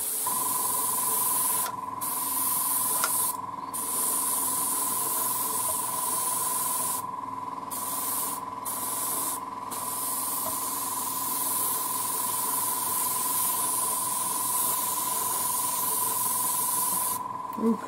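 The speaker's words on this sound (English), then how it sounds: "So cleaning my airbrush." An airbrush sprays continuously during cleaning, a steady close hiss lasting throughout, with several brief breaks where the spray cuts out, alone with no talking.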